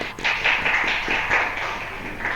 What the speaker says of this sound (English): kindly give him a good applause now